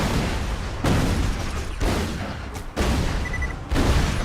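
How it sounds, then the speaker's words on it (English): Heavy blasts and explosive bursts from a rocket launcher fired at a boss in Borderlands 2, several loud booms in quick succession over rumbling game noise. "Hit him with the rocket launcher."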